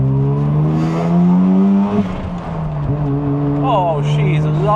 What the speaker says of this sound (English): The turbo noises are sick, mate.